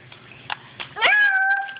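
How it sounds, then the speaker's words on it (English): A cat gives a single clear, drawn-out meow after a few soft, short sounds, loud and close with the tone held and then fading. "A cat says meow."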